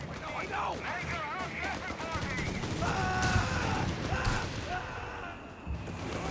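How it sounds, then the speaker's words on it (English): Mortar pit firing in the World War II strategy game Company of Heroes 3, with repeated booming blasts and scattered gunfire running continuously through a busy battlefield mix. "mortar pit blasting away there"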